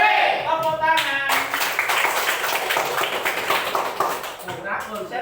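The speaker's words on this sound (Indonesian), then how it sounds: "Tepuk tangan." Children clap their hands together in a classroom, a fast patter of many small claps that follows a moment of singing and carries on for several seconds, with voices mixed in.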